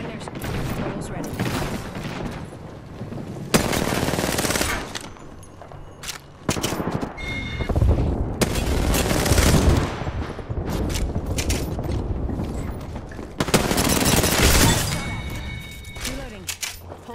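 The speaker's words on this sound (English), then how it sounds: "Heads up, we've got an airstrike." Explosions and heavy gunfire from an airstrike in Apex Legends burst out in loud, dense waves separated by short lulls, with players talking underneath.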